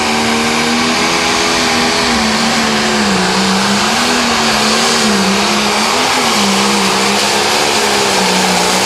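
Case IH limited pro stock pulling tractor, the Black Mamba out of Downing, Missouri, roars at full throttle during a tractor pull in Mound City, a loud, continuous high-revving engine drone with a wavering pitch throughout.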